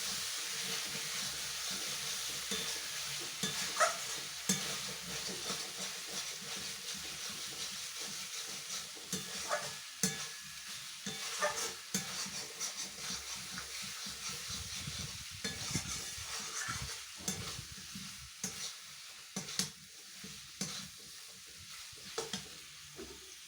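Chicken cooking in a pan, quiet sizzling broken by repeated scraping stirs and clacks of a utensil against the pan at irregular intervals, no voices.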